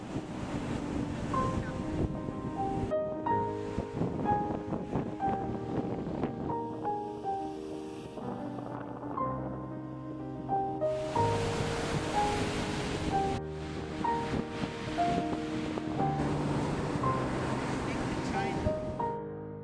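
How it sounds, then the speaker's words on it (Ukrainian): Ocean waves wash onto Santa Monica beach as a steady broadband roar that swells louder in the second half, heard under continuous music playing throughout. "На пляжі Санта Моніки панує дивовижна заспокійлива атмосфера. Тут час ніби зупиняється. Шум хвиль очищає від втоми"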